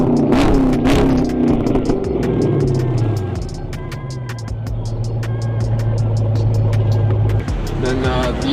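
A Chrysler 300 with Flowmaster exhaust cutouts open revs loudly up close, its deep exhaust rumble swelling and falling in several throttle blips, then holding a steady drone before another rev.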